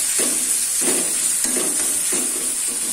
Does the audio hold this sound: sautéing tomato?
yes